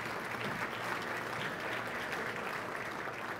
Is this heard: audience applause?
yes